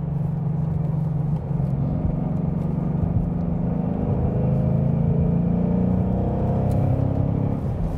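Ford Mustang GT fitted with a Borla Touring cat-back exhaust, driving along a highway, its low engine rumble and exhaust note steady and smooth as it cruises and picks up speed, heard continuously without talk.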